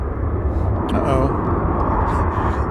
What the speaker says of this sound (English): Luke says, Eva Air on the move.